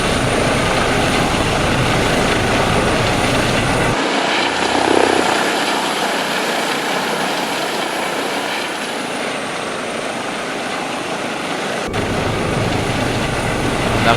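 A Eurocopter EC 135 helicopter in the X-Plane flight simulator flies over Paris with a steady, loud, dense rotor and turbine roar that continues throughout, and its low rumble thins out for several seconds in the middle.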